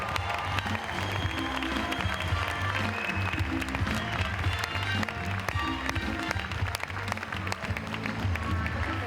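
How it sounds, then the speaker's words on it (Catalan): A crowd gives a strong, long round of applause for a songwriter, dense clapping and some cheering that fills the space for about nine seconds, with a steady low hum and tones running underneath. "Un fort aplaudiment per ell"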